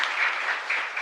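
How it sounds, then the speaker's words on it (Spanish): A church congregation at a parish mass claps together in a brief burst of dense applause, fairly loud and even throughout. "Fuerte aplauso entonces para todos ustedes."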